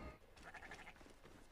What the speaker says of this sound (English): That was the most derpy sounding goat ever.